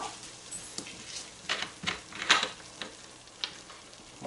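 Hot grease in a pan on the stove, with water poured in while making German potato salad, gives a steady crackling sizzle with louder spitting bursts that rise and fade through the pour.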